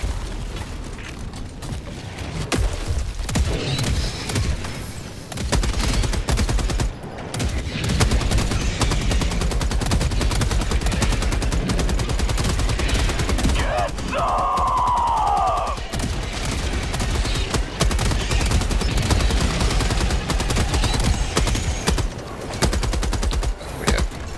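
Autocannon sentry turret in Helldivers 2 pounding away at Terminid bugs, a steady stream of heavy gunfire with booms and mechanical clatter running throughout, loud and continuous.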